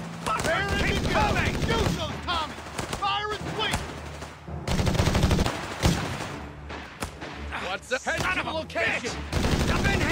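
Small arms gunfire crackles in rapid bursts and volleys in the Company of Heroes 3 video game, mixed with shouting soldier voices and battlefield noise.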